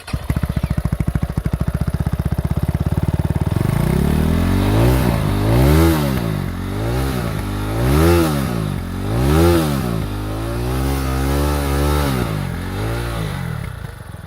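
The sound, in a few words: FB Mondial HPS 300 motorcycle starting, exhaust note revving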